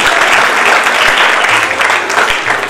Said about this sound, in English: Huge round of applause for them also.